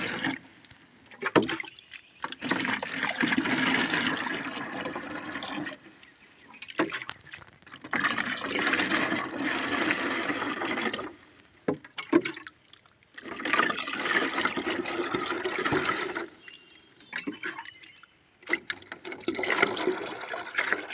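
Bitter gourd plants being watered by hand, repeated bursts of pouring and splashing water lasting a few seconds each, separated by short quiet gaps.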